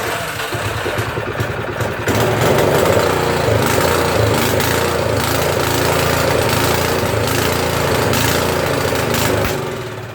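A Troy-Bilt 24-inch snow blower with a 179 cc OHV engine runs steadily and loudly close by, a rough mechanical drone that holds through the whole stretch and grows a little louder after the first couple of seconds.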